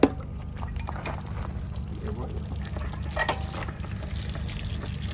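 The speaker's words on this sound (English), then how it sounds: "when you are emptying your water heater, make sure you stand back" Water pours and splashes steadily from an RV water heater drain being emptied for winter, a continuous hissing gush with a brief loud burst at the start.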